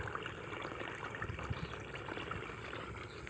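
Water rushes strongly along a rice field channel behind the Islamic Center Al-Amin in Kapuas, a steady, dense outdoor flow that stays even and continuous throughout.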